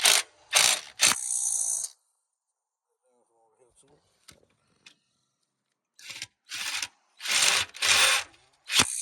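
Bolts on a Ford Focus engine mount being tightened with a ratchet, giving loud bursts of rapid clicking at the start and end with a quiet stretch of faint taps and soft talk between.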